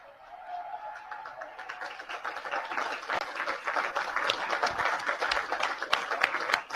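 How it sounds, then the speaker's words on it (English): A small group of about ten people claps at a military anniversary event, starting faint and thin and swelling into steadier, louder applause over several seconds. "All 10 people clapping."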